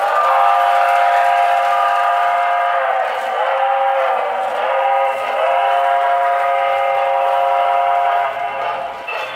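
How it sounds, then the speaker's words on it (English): Loud, sustained multi-tone whistle from a Marx toy train on an O-27 three-rail layout, blowing steadily for about eight seconds with slight dips in pitch, echoing in a reverberant basement room. "Listen to this whistle."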